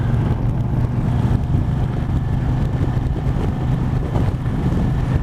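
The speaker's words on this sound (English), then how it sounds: "And the engine sounds as sweet as nut," Yamaha TDM motorcycle engine burbling steadily at a low, even throb, with wind rush over the microphone throughout and no voices.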